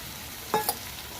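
Rohu fish curry being sautéed in a pan gives two short bursts of sizzling and stirring against a quiet, steady background hiss, close and fairly loud.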